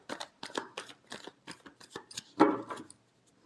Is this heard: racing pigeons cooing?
no